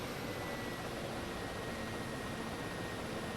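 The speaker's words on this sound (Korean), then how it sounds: "엔진 출력이 내려가는 소리가 들리죠?" Broad, steady engine roar of a Kamov Ka-50 helicopter in a flight simulator, spooling down as the collective is lowered, with a windy, noisy texture, constant in loudness, like a turbine running continuously with no other sounds.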